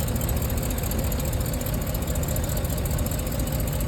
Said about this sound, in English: I'll warm the engine now